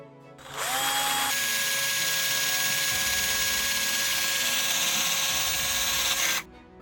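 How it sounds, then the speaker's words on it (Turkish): A power drill boring a 4-5 mm hole in plastic for a screw on an adjustable camera and phone holder, spinning up to a steady high whine for about six seconds before cutting off, close and loud. "Vidanın geçebilmesi için şuradan yaklaşık 4-5 mm kalınlığında bir delik açmamız gerekiyor."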